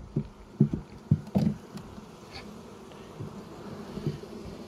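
Honeybees hum during a spring hive inspection as frames are handled, with a faint buzzing drone under several soft knocks and bumps from the hive, close by and without talk.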